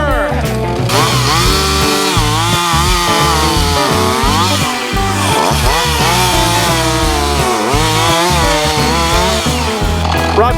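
A chainsaw cutting timber at a homestead cabin roars loud and close the whole time, its engine pitch rising and falling as it bites into the wood.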